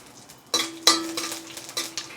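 Mustard seeds, cumin and dried chillies hit hot sesame oil with sharp crackles and pops, over a light sizzle and some utensil clatter.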